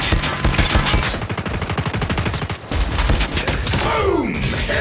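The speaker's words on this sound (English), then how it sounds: "Hostile sentry gun in your AO." Rapid automatic gunfire from a hostile sentry gun in Call of Duty Mobile, dense and continuous bursts close by, with a brief break and a rising whine near the end.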